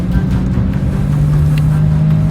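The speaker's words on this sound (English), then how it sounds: "I'm letting the truck slow down, and then every once in a while you can hear I'm tapping the brakes gently" A RAM 3500 Cummins HO dually pickup tows a heavy load down a steep 25% grade in second gear. Its loud, steady engine drone holds unbroken throughout, with no distinct braking sounds standing out.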